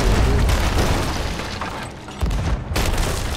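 Cannon fire in the pirate video game Sea of Thieves, with loud continuous booming blasts and rumbling impacts that dip briefly before another heavy burst, dense and close.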